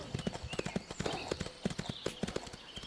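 Horse hooves clip-clop in a steady rhythm as a horse is ridden along a path in the video game Ostwind Remastered, close and fairly quiet, with faint background ambience.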